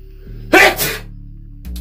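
A single sharp sneeze, loud and close, over a steady low background hum.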